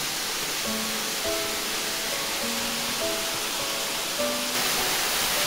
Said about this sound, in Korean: 불일폭포에 도착했습니다.